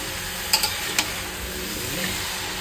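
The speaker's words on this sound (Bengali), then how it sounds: "বড় খুন্তি বড় কড়াই দিয়ে লেগে পড়েছি" A big spatula stirring vegetables in a large wok over the heat, steady sizzling with a few brief metallic scrapes and clinks, close and fairly loud.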